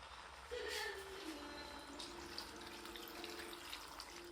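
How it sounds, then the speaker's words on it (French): Water is poured from a glass into a pot of goat meat for cabri massalé, a close steady trickle and splash that lasts several seconds before easing off, faint in a quiet kitchen. "il va falloir mettre de l'eau"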